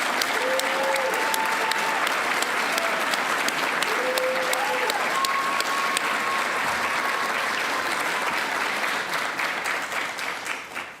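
Loud, steady applause from a large audience at the CACHE PTA Class of 2024 graduate recognition ceremony carries on throughout, with faint whistles and cheers rising above the clapping before it begins to fade.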